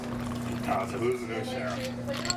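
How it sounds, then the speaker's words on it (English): Drinks are poured behind the bar at Gritty McDuff's in Auburn, a brief liquid splash over a steady hum and murmuring voices in the busy room. "Jackie Bergman keeps the drinks pouring"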